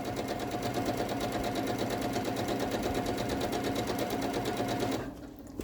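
A sewing machine runs in a fast, even rapid-fire stitch while joining quilt pieces, steady for about five seconds before stopping abruptly, with no talking.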